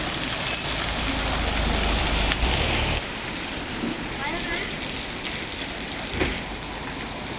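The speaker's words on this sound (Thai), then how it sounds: "ฝนตกแดดออกนะคะ" Rain pours onto surfaces during a sun shower in a storm, making a dense, steady hiss that stays loud throughout and eases slightly after a few seconds.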